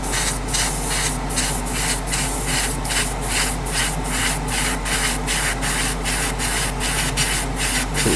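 An airbrush sprays paint onto the fairings of a 1:12 Tamiya Repsol Honda RC211V model in light coats. A close, steady hiss runs throughout with regular soft pulses and no talking.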